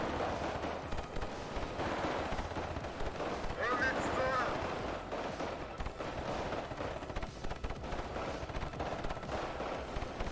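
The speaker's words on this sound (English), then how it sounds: "Artillery, better late than never." Artillery fire in the WARNO strategy game thuds in repeated booms and rumbling blasts amid ongoing battle noise, at moderate loudness, with someone talking at times over it.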